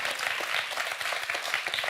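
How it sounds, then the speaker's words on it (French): Audience applause at the close of a tournament final, a dense, steady wash of many hands clapping together with no breaks from start to end. "Je crois qu'on peut applaudir Arthur qui a fait un très beau parcours et un super match."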